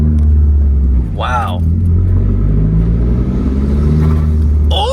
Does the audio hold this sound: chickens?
no